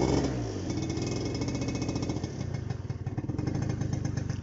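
A two-stroke Stalker scooter engine catching after a few kick-start strokes, settling into a loud, close, rattling idle with a rapid, steady pulse.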